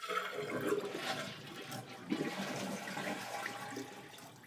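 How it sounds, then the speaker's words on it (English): Water rushes out of a toilet tank as the flapper is lifted by hand, a faint, steady gurgling flush that runs throughout and tapers slightly toward the end. "we need to flush the toilet to drain this tank, and since we can't do it with the handle, we're just going to lift this flap up"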